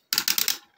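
A Tobot Captain Police toy robot's joints click as they are moved, giving four or five quick, sharp plastic clicks in a tight burst. The clicks are close and crisp with no talking.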